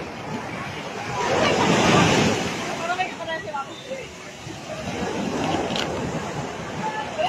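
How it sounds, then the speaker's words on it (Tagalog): Strong ocean waves surge and wash in at Nasugbu Beach, Batangas, a broad roar swelling early and again near the end, with people chatting and calling out over the surf. "Lakas ng alon."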